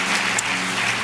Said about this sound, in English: Give her a big hand clap for having the boldness to come up here today